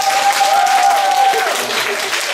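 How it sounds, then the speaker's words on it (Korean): A church congregation applauds a newly introduced education minister during a Sunday service, with loud, dense clapping throughout and a sustained tone running under it. "박수 한번 쳐주세요."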